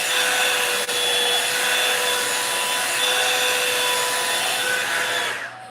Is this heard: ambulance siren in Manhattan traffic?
no